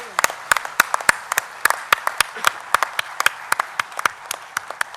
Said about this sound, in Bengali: যারা পুরস্কার পেলেন তাদের জন্য জোরে আমরা একটা হাততালি দিই।